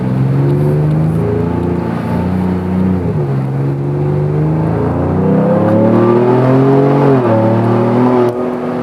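A Ford Bronco with a MagnaFlow performance exhaust droning close by on the road, its deep engine note rising through gears with brief dips at each shift.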